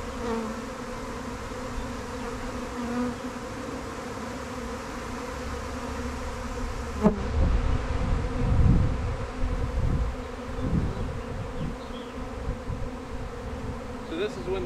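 Steady, dense buzzing of a honeybee swarm fills the air, growing louder and busier partway through as more bees fly close by.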